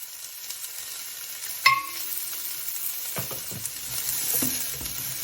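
Mushrooms and broccoli stir-fry in oil in a skillet with a steady soft sizzle, broken by a sharp metallic clink and several scraping stirs of the utensil against the pan.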